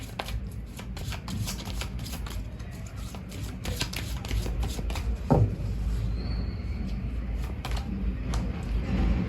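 Tarot cards being shuffled by hand, a steady riffling and flicking close up with repeated sharp card snaps throughout, continuous and moderately loud with no talking.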